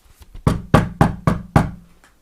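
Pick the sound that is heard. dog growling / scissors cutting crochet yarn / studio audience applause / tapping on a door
tapping on a door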